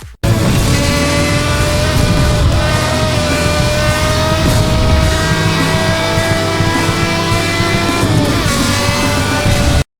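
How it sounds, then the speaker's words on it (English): A Chevrolet Corvette ZR1 in the racing game Need for Speed Hot Pursuit roars loudly and steadily with a sustained high-revving engine note that shifts pitch through gear changes, accompanied by tire squeal, with no talking. "this car has, in my opinion, the best engine sound in the game"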